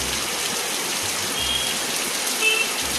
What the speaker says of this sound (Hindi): बारिश तो रुकने का नाम ही नहीं ले रहा है।